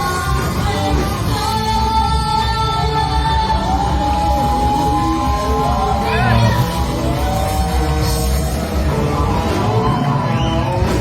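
A crowd at a live rock band cover keeps up loud, dense shouting and whooping, with many overlapping voices yelling and cheering.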